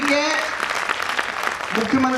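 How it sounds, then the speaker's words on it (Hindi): Applause from an audience at a Brahmin community gathering in Indore, a dense, steady patter of clapping lasting a couple of seconds, with voices audible over it at the start and end. "तो जोरदार तालियां बजाएं"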